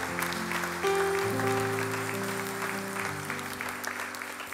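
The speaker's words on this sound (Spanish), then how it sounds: "Aplauso." A church congregation claps during a Sunday sermon, with scattered applause mixed with sustained organ or keyboard chords and faint voices.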